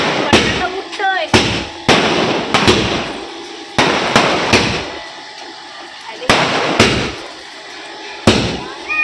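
Firecrackers burst at a family birthday celebration: a string of loud, sharp bangs in irregular clusters, some close together and some spaced by short pauses, with faint voices and whistling between blasts.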